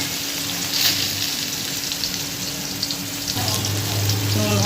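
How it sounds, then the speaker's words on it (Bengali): Potato and eggplant pieces fry in hot oil with nigella seeds, giving a steady close sizzle over a low hum that swells louder toward the end, with no talking. "ভালো করে আলু আর বেগুনটাকে ভেজে নেব নেড়ে ছেড়ে।"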